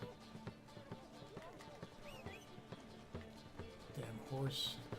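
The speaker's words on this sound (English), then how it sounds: "Damn horse. Always have to go to it." Horse hooves in The Witcher 3, heard as quick rhythmic thudding footfalls at moderate level under someone talking.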